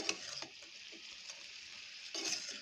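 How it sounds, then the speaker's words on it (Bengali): Small salted potato pieces, cut like tiny samosa chunks, frying in a pan with a continuous bright sizzle, louder bursts at the start and end, and faint stirring taps in between. "এখন আমি আলু ভাজি করব।"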